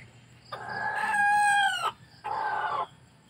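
A close rooster crows in one long drawn call, flanked by shorter clucking calls from the chickens, with quiet farmyard background between them.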